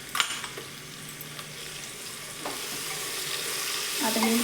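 Vegetables with turmeric, salt and a spoonful or two of yogurt stir-fried in a pan for masale rice: a steady broadband sizzle with a few clinks of a spoon against the pan, close and alone.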